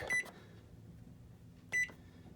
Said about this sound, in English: So you take this and stick it in the microwave.